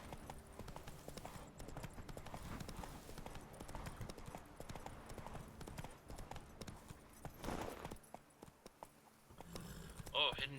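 Roach the horse gallops in The Witcher 3 video game, hooves beating a fast steady clip-clop close by that continues for several seconds before fading to a short pause, with game sounds layered underneath.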